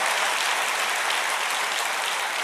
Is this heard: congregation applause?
yes